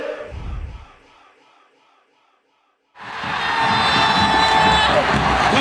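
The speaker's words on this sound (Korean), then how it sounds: "관중 여러분들의 응원의 힘입어 FC 안양이 오디션에서 승리를 기록합니다." Stadium crowd of FC Anyang fans roaring and cheering loudly and continuously after a brief lull, with earlier shouting and chanting fading out before the swell returns.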